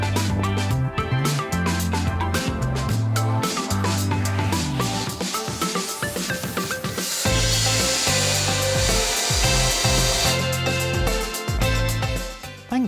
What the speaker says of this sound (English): you can easily drill into wood with this large 20mm auger bit